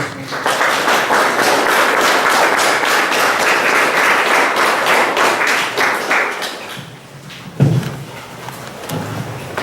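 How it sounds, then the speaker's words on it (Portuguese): Church congregation at an Easter vigil bursts into rhythmic group clapping, loud and fairly regular, then thins out after about seven seconds into scattered claps and a few thuds. "Acolhemos essa palavra com salva de palmas."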